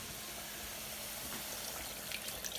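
Water pours steadily into a cooking pot, about 600 millilitres, a continuous splashing rush with no talk over it.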